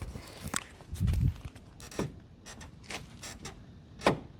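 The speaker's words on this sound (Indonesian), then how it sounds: "Pintu ini kalau dibuka full terus ditutup, tuh ada bunyi nih." A Toyota Veloz side door, previously damaged in an accident, opened fully and shut, giving a few sharp knocks and clunks with faint creaks between them against a quiet background.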